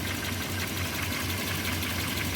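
A steady car engine idles evenly and without knocking, with a fuel-injected setup and the engine started with a single turn of the key; the low hum is continuous, close and moderately loud throughout.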